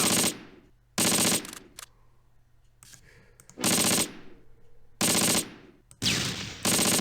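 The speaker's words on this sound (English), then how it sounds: "Oh, enemy tank firing." In the World War II tank game Close Combat: Panthers in the Fog, an enemy tank fires at the player in several loud, rapid automatic bursts separated by short quiet gaps.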